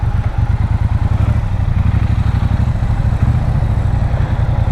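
A 2022 Triumph Bonneville Bobber runs steadily close by, its engine giving a loud, continuous low rumble with a fast even pulse for the whole stretch and no talk over it.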